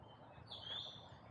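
A single thin, high bird chirp rings out briefly in a bamboo-lined rest garden in Tseung Kwan O, Hong Kong. It is faint and somewhat distant against a low, quiet outdoor background.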